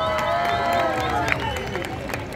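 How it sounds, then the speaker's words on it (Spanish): A night street crowd in Madrid's Puerta del Sol area claps and cheers, a steady wash of applause with scattered shouts, fairly distant and moderately loud. "Fuerte los aplausos para Inglaterra"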